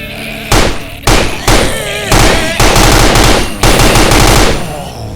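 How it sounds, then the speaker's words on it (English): Loud bursts of automatic gunfire from the Android zombie survival shooter Invention 3, several rapid volleys separated by short pauses, close and dominant. "This is a very exciting offline shooting survival game."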